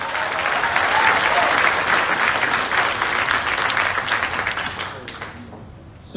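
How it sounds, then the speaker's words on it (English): Audience applause at a startup demo day in Hong Kong, a loud sustained round of clapping from a crowd that tapers off toward the end. "Let's give him a round of applause."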